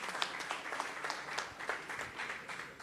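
An audience gives a brief round of applause at a destination promotion event in Saint Thomas, faint, scattered clapping with distinct individual claps.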